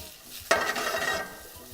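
Garlic frying in a hot pan for a garam masala chicken dish bursts into a steady sizzle about halfway through, with faint stirring, close and alone without talk.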